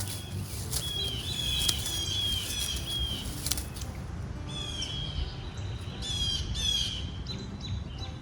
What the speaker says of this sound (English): is that the red-winged blackbird? He's so noisy.